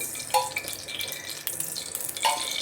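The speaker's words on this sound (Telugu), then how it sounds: "నేనైతే వంకాయ ఫ్రై చేసుకుంటున్నాను." Brinjal (eggplant) sizzles as it fries in a pan, a steady crackling hiss with a few brief louder spits, close by and with no voices.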